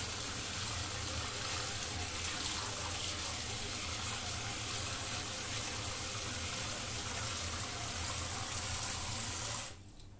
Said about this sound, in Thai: ระหว่างที่ล้างนี่ตัวเปลือกของถั่วก็จะหลุดออกไปค่ะ